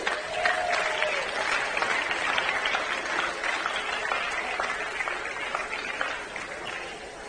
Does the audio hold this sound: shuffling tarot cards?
no